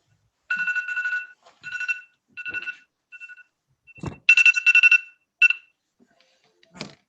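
A phone ringtone plays in repeated short electronic bursts with pauses between them, then a louder cluster of rings and a couple of final chirps, clear and close in an otherwise quiet room.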